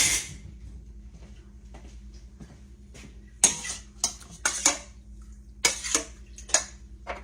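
A metal spoon stirring salted raw chicken livers in a bowl, with scattered clinks and scrapes that grow louder and sharper midway, several distinct knocks against the bowl over a quiet background hum.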